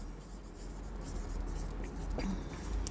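A pen writes on paper, the scratching running steadily and close throughout with a faint rustle, as an accounts entry is jotted down during a bookkeeping lesson.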